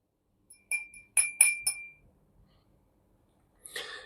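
A real glass clinks several times in quick succession, bright ringing taps close by, then a short pause and a final softer rattle.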